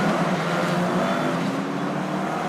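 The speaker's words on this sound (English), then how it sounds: "the cars leave the pit lane en masse in grid order" F4 race cars pulling out of the pit lane in grid order at the Saudi Arabia championship round, a steady, dense engine drone from several cars close together, sustained and loud throughout without any speech.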